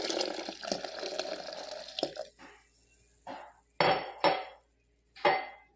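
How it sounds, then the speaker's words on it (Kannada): Milk is poured into a mixer jar holding soaked fenugreek for a juice. A steady pour is followed by several short, separate clinks and splashes of liquid against the jar, close and distinct. "ನೆಕ್ಕೆ ಪೇರ್ ಪಾಡೊಂದುಲ್ಲೆ"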